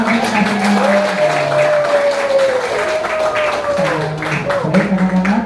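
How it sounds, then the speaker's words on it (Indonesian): Children applaud in an Indonesian primary classroom after a language lesson, a steady wash of clapping that runs the whole time while a voice or tonal sound drifts above it, with no clear pauses. "Ya tepuk tangan dong."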